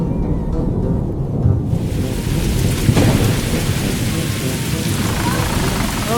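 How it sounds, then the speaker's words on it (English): A thunderstorm over the suburbs on a morning: steady heavy rain pours throughout, while a deep rumble of thunder swells loud and near midway, with no voices. "Suddenly, the sky rumbled with thunder,"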